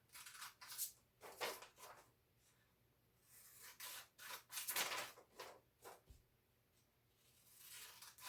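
Scissors cut through a recycled plastic bottle to make a pinwheel, producing repeated crisp snipping and crackling bursts in an irregular rhythm, close and fairly quiet, with no speech.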